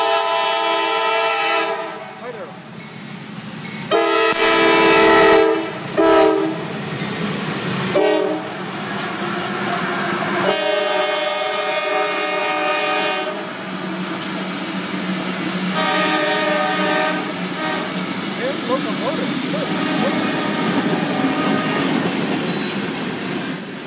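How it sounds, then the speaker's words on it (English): A locomotive passes close by on the line at Folkston, its horn blaring in several loud sustained blasts over the rumble and clatter of railcars rolling through. "Locomotive."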